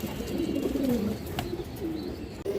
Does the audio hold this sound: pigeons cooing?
yes